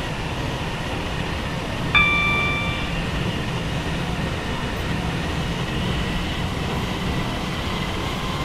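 A train in the Roblox game Stepford County Railway runs through a station platform with a continuous rumbling roar, and a short tonal whistle or squeal sounds near the start.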